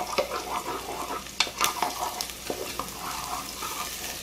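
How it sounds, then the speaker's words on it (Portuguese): Garlic and onion browning in a pan for caldo verde, a soft, even sizzle punctuated by light stirring scrapes and a couple of sharper clicks, close and fairly quiet. "Vamos deixar dourar um pouquinho aqui esse nosso alho,"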